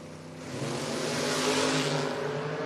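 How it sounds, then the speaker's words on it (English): A red Mustang drag racing car launches down the strip, its engine roaring loudly and steadily as it builds over a few seconds, with no talk. "Travis, red Mustang, says 615. Generally a Mustang that leaves wheels up."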